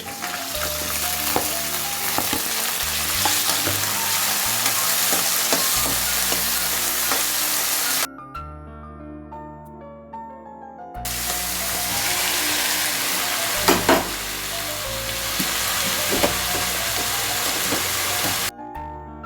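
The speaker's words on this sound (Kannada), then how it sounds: "ಟೊಮೆಟೊ ಹಾಕಿದ್ಮೇಲೆ ತಕ್ಕಷ್ಟು ಉಪ್ಪು ಚೆನ್ನಾಗಿ ಫ್ರೈ ಆಗೈತೆ" Chopped onions and tomato with salt fry in a hot pan for a nugge soppu (drumstick leaf) paratha filling, a loud steady sizzle with stirring scrapes that cuts out briefly midway and returns.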